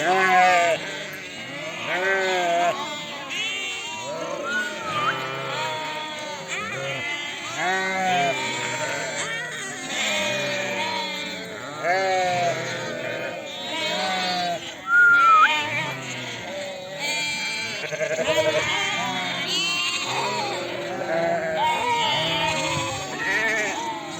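Many sheep bleat continuously, overlapping calls from a close flock, steady and loud throughout, with high wavering cries layered over each other.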